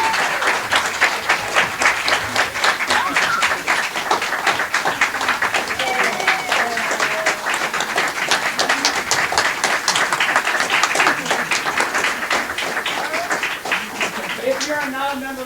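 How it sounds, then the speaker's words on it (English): A theater audience applauds the cast of a historical society's live radio show, steady dense clapping sustained loudly throughout with a few voices and cheers mixed in. "give them all a big round of applause"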